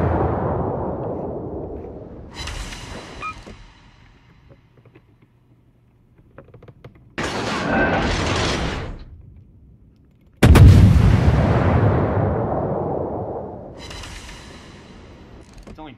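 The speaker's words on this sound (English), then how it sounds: "Let's try armor piercing shells on this." Naval guns fire armor-piercing shells in World of Warships: three heavy, booming blasts, each with a long rumbling decay, loud and close, with faint mechanical clatter between them and no talking.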